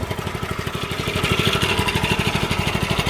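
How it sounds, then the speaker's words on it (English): A tractor engine idles on a tile plow with a fast, even diesel putter, close and steady, and nothing else heard. "That engine just sits there and idles"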